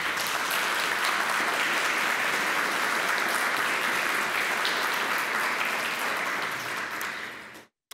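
At a public forum on violence and gender culture, an audience breaks into dense, sustained applause that holds steady for several seconds before cutting off abruptly.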